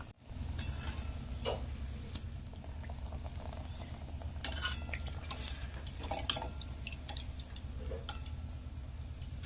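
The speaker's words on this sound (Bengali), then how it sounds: "এইভাবে আমি সবগুলো ভেজে ভেজে তুলে নেবো" Malpua batter cakes frying in a pan of hot oil, a continuous soft sizzle and bubbling with scattered pops and drips and occasional stirring, steady and close, no talking.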